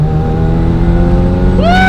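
A boosted four-cylinder car pulls hard through second gear, its engine note loud and close and climbing steadily in pitch as it accelerates, with a sharp rise right at the end.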